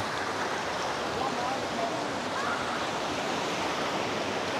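Ocean surf rolling onto the shore at Boracay beach, a steady broadband rush of breaking waves heard close, with faint voices in the background.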